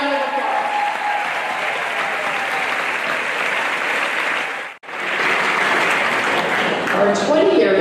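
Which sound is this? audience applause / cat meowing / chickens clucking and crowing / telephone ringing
audience applause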